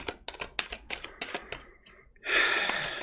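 Tarot cards being shuffled, a run of quick crisp riffling clicks and slaps in irregular bursts, followed by a brief lull and then a denser, steady rustling shuffle that ends the clip, all close and without any talk.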